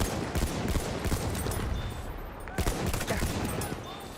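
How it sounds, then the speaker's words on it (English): Rapid bursts of machine gun fire in the World War I shooter Battlefield 1 chatter almost without pause. Loud, close rattling shots overlap with more distant volleys, with a brief lull midway. "Enemy machine gun sighted."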